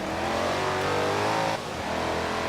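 A Dodge Charger Daytona engine revs hard in the racing game Forza Horizon 4, with a loud, sustained roar that climbs in pitch and then shifts down briefly before pulling up again.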